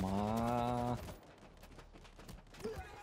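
Gunfire in the zombie shooter World War Z, a burst of rapid automatic shots followed by scattered single cracks, with a voice speaking over the action.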